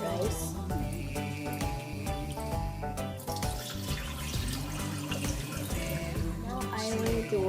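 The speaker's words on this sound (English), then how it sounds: "And now I'm going to wash this. By the way, I used basmati rice." Basmati rice is swished and rinsed in water for Tibetan sweet rice, with running, sloshing water heard beneath background music and some voice.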